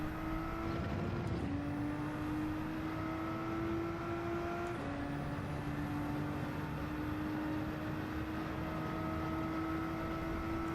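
Race car engines from a Nissan GT-R and a BMW Z4 in Gran Turismo 7 drone loudly and continuously, pitch climbing steadily through the gears with a couple of brief shift dips, no voices over it.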